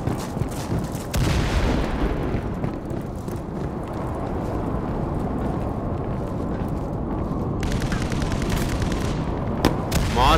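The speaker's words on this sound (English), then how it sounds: "They're gonna throw the grenade now." In the shooter game Firewall Zero Hour, a loud grenade blast and heavy gunfire erupt close by, then settle into rumbling battle noise, with sharp shots cracking near the end.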